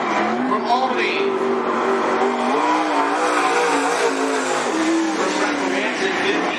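A late model race car laps Cottage Grove Speedway, its engine droning and rising and falling in pitch steadily through the lap, heard from trackside with a public-address announcer talking over it.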